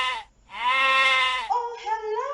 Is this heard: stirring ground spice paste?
no